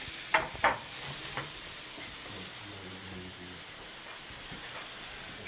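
A sausage patty and mushrooms fry in a pan, giving a soft, steady sizzle throughout, with a couple of sharp clinks of a utensil near the start and faint background rumble.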